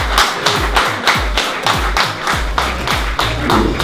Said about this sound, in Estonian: Ja kõva aplaus 2 VD suurde klassi võitjatele.